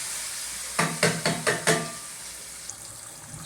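Hot tempering poured into tomato chutney, giving five quick sizzling bursts in a row up close, each hiss fading fast before a quieter tail.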